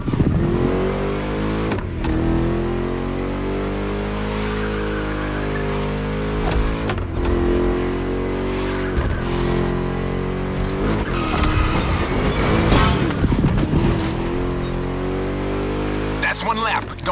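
A car in The Crew Motorfest racing game drives laps, its engine droning steadily with rising and falling revs and occasional tire squeal, loud and continuous throughout.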